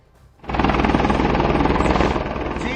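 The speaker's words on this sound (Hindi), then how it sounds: "ये हेलीकॉप्टर बद्रीनाथ धाम से अभी यहाँ पे पहुँचा है आर्मी हेलीपैड में" An army rescue helicopter arrives at a mountain helipad near Badrinath, its rotor roar surging in abruptly after a quiet moment and then holding loud and close with a steady thrumming beat.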